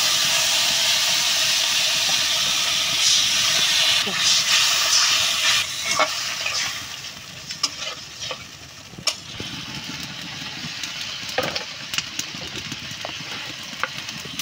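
Potatoes fry in hot oil with a loud, steady sizzle and hiss, broken by scraping clicks of stirring throughout, with no talking.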